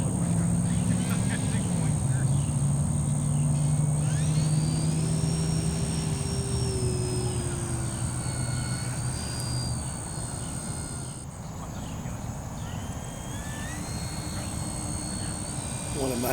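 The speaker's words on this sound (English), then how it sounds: "Reverse thrust really comes in handy float flying." A radio-controlled bush plane on floats runs its motor in reverse thrust on water, giving a steady buzzing drone that rises and falls in pitch, with a constant high whine and some speech.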